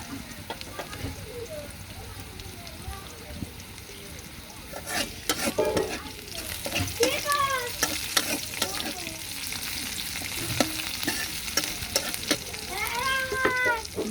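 Onion and garlic fry in oil in a pan as they turn reddish, a continuous sizzle with clattering stirring strokes that grows busier midway, while a voice speaks over it.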